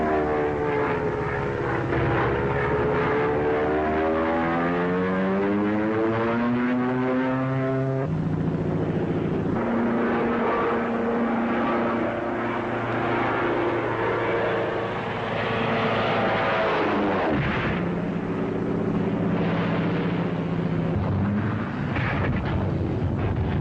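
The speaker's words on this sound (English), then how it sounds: "Who's stunting that plane?" A propeller training plane stunts overhead, its engine droning loud and steady throughout, with the pitch sweeping up and down as it dives and climbs.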